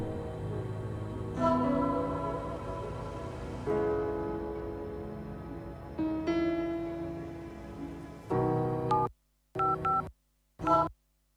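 Telephone keypad dialing tones play in a series of distinct beeps of varying pitch, ending with a few short isolated tones separated by silence.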